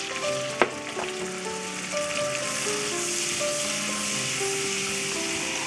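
Flour cooking in a mix of butter and plenty of oil for a white roux, a steady hissing sizzle with faint crackles and one sharp clack near the start, close and continuous under soft background music, no speech.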